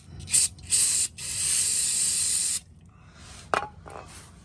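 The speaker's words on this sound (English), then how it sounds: "take our handy dandy brake parts cleaner" Brake parts cleaner aerosol hisses in two short bursts, then one long steady blast of about a second and a half, followed by quieter clatter and a brief rattle, during an oil change.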